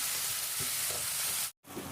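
Pointed gourd and potato curry with tomato fries in a covered pan, giving a steady broadband sizzle with faint crackles that cuts out for a moment near the end, then resumes.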